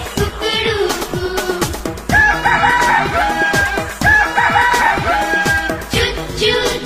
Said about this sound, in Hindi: कुकड़ूकू कुकड़ूकू, मुर्गा बोले कुकड़ूकू